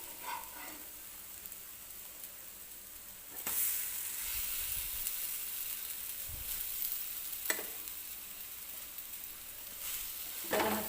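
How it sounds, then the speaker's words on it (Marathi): Besan-batter-coated bread slices roasting in a little oil on a pan, giving a faint, steady low sizzle with a few sharp clanks and scrapes from flipping and pressing, recorded close with no talking. "दुसरी बाजूसुद्धा आपल्याला व्यवस्थित भाजून घ्यायची आहे"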